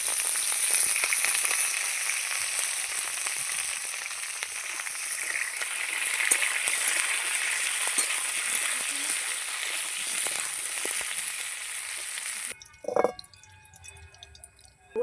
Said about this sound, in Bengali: এবার আমি উচ্ছেটা ভেজে নেবো। উচ্ছেগুলো আমি বেশি কড়া করে ভাজবো না, হালকা করে আমি ভেজে নেবো।